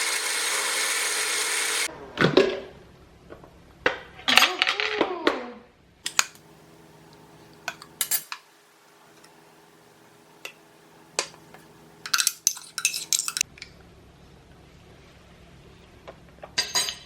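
Ice cubes clink and rattle into a blender jar of fresh banana smoothie, in several separate bursts of sharp knocking with quiet pauses between, fairly close and with no talking.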